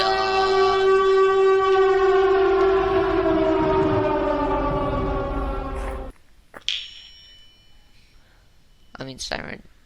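Siren Head, the monster from a horror video game, lets out a loud, wavering siren wail that holds steady for about six seconds, then cuts off abruptly. A few brief, fainter clicks and rustles follow.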